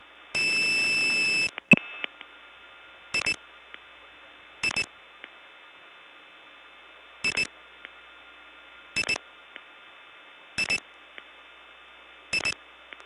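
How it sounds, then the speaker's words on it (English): Dialing a series of 2s on a 1979 step tandem telephone exchange: a loud steady tone that cuts off, then six short evenly spaced bursts of clicks and tones over a faint hum, with no talk. "Let me try dialing a whole bunch of 2s"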